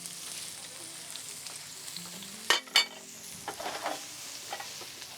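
Chopped onions frying in a pan with butter while shrimp is being prepared, a steady sizzle with two sharp clatters midway and a few light scrapes of stirring toward the end.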